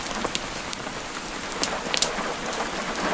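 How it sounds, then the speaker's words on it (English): Steady, gentle rain falls outside a cottage, an even close hiss with scattered soft drips and patters, no voices. "the rain has eased slightly from its earlier intensity, settling into a gentler but no less steady fall"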